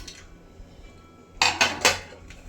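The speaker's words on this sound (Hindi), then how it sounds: "अब मैं इधर गैस जला के और अपना जो है ये कुकर इस पे रख रही हूँ।" A metal pressure cooker being set onto a gas stove, with three or four close, sharp clanks of metal on metal in quick succession after a quiet stretch.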